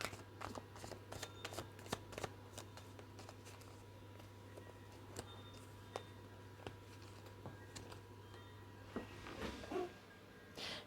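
Tarot message cards are softly shuffled up close, with light papery flicks and taps in an uneven rhythm over a low steady hum, quiet throughout and with no voice.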